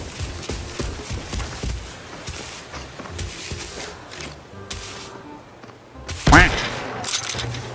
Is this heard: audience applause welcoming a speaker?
no